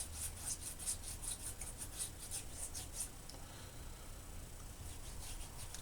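Noxzema pre-shave cream is rubbed into the face, giving soft, quick, rhythmic skin-rubbing strokes for about three seconds, then a faint quieter rubbing.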